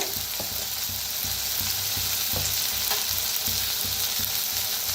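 Onion and masoor dal roast in a hot pan with red chili powder and turmeric, a loud, steady sizzle with a regular scraping rhythm of a spoon stirring throughout, close and continuous.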